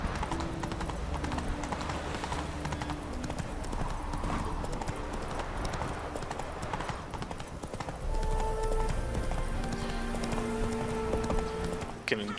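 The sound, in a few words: horse Roach's hooves galloping in The Witcher 3 video game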